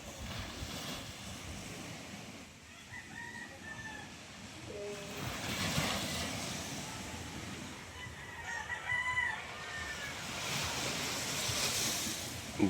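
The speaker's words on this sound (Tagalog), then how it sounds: "Ganda ng dagat pagkat kalmada" Calm sea surf washes in a soft, continuous hiss, swelling gently in places, while roosters crow several times in the distance over it.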